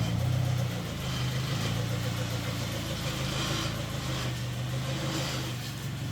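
A 6.5 litre turbo diesel engine idling steadily near a roaring torrent, a continuous low droning rumble holding for several seconds with a slight dip at the start and no talking.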